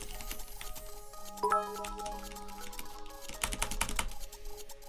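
Typing on a computer keyboard, close and quiet, with irregular clusters of clicking keystrokes and a brief pause partway through.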